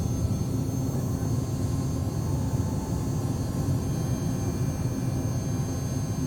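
Twin jet engines of a Citation CJ4 roar at takeoff thrust in a flight simulator, a steady, dense low rumble with a faint high whine holding evenly throughout, no speech.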